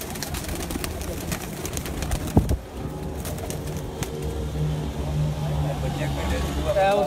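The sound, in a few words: pigeons cooing on a rooftop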